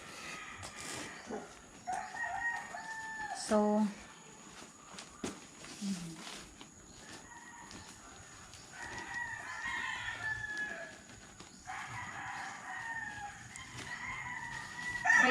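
Chickens cluck and a rooster crows faintly in the background, mixed with footsteps and a brief spoken word.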